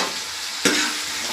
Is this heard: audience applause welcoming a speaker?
no